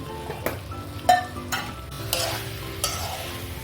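Boiled potatoes are sautéed dry in a pan, with a low sizzle under repeated scraping stirs of a spatula at irregular intervals, close and moderately loud.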